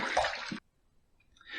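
Running water rinses a Tedalus Velocity-ONE safety razor, with a brief close hiss of flowing water that cuts off and then returns faintly after a short pause.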